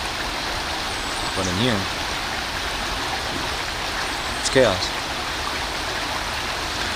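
Flowing stream water outdoors, a steady rushing hiss that runs the whole clip, with a couple of short spoken phrases over it.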